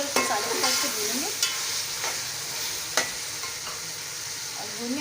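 Spice masala and yogurt frying for a beef Punjabi yakhni pulao, giving a steady close sizzle with occasional stirring knocks and scrapes.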